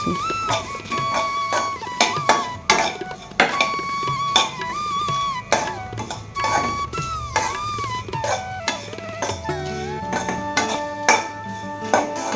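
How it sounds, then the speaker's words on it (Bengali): Raw semolina being roasted in a pan is stirred with a utensil, giving repeated metallic scrapes and clinks against the pan at an irregular rhythm, close and fairly loud over soft background music. "সুজিটা কিন্তু কাঁচা সুজি আমি ভাজে নিচ্ছি"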